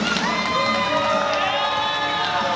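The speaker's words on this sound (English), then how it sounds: "Crowd showing them some love here." A wrestling crowd at a CCW Chaos show cheers steadily, with loud whoops and shouts blending into a continuous roar for a couple of seconds.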